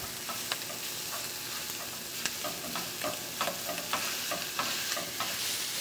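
Ground lamb fries in a pan as a spoon breaks it apart, with a steady dense sizzle and repeated light scraping taps close by; no one speaks.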